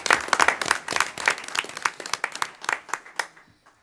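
Scattered applause rises at a city council meeting, a crowd of hands clapping loudly at first, then thinning into sparse, fading claps.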